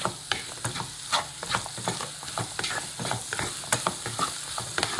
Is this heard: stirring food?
yes